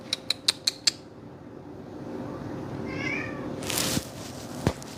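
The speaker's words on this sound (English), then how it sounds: "We got kitties." A cat meowing close by with a short wavering mew in the middle, after a quick run of sharp clicks and amid creaks and handling noise.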